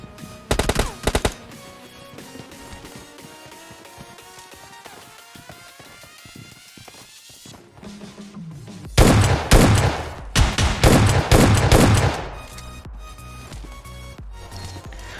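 An S12K shotgun in PUBG Mobile Lite fires in loud bursts, a quick cluster of shots at the start and a dense volley of blasts later on, with in-game movement and ambience filling the gaps between them.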